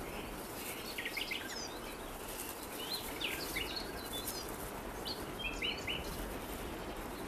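Birds flutter and flap their wings among mountain rowan trees in the Arlberg in autumn, with scattered quick chirps over a steady rushing background and no talking.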